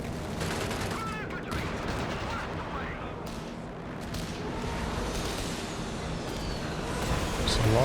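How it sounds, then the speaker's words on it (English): Artillery and gunfire in the real-time strategy game Company of Heroes 3, in a 2v2 match between US, UK, Wehrmacht and Afrika Korps armies: a dense, continuous barrage of blasts and shots, loud and rumbling throughout, building slightly toward the end. "There's a lot of artillery."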